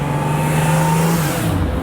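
A Ferrari Cal Spider sports car drives past on a road tour, its engine a steady, smooth drone that stays loud and close for about a second before easing away, with no talk over it.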